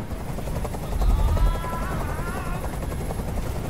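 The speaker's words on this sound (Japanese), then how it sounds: "あのヘリコプターをどこかにやってくれ。" A helicopter in the video game Detroit: Become Human, rotor thumping steadily with a droning engine whine, rising briefly in loudness before settling into a constant hovering rumble.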